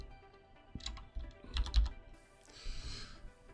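A computer keyboard is typed on during Photoshop work, giving a short, quiet run of scattered clicking keystrokes with no voice over them.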